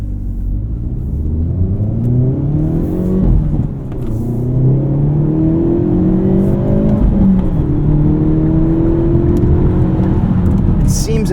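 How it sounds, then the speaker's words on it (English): The exhaust of a 2024 Hyundai Elantra N with a six-speed manual drones loudly from inside the car while driving. Its pitch sweeps up and down through gear changes, and a brief dip near four seconds marks a shift. "maybe the exhaust is a little bit more toned down"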